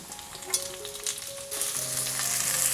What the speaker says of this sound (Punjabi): ਇਹਨਾਂ ਨੂੰ ਨਾ ਪਿਆਜ਼ ਦੇ ਵਿੱਚ ਮਿਕਸ ਕਰਕੇ 1 ਮਿੰਟ ਤੱਕ ਇਸ ਤਰ੍ਹਾਂ ਖੁੱਲਾ ਹੀ ਭੁੰਨਾਂਗੇ